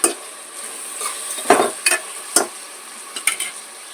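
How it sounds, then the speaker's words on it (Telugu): Tomato pieces and ginger paste fry in a pan with goat head meat curry, a steady close sizzle broken by several scraping stirs of a spoon against the pot. "అల్లం పేస్ట్ కూడా మనం టమాటా ముక్కలు కూడా వేసేసుకోవాలి ఇవి కూడా కొంచెం బాగా వేగనివ్వాలి"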